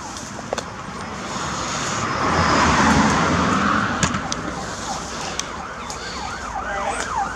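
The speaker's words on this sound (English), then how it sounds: "Oh, I hear sirens." Sirens wail in the distance over a rumbling background, swelling louder midway and rising and falling in a rapid yelp toward the end.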